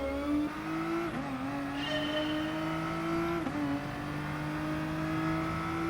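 Race car engines from the Gran Turismo Sport video game roar steadily at close range, with pitch climbing through the gears and abrupt shifts or lifts of the throttle, plus a hint of tire squeal.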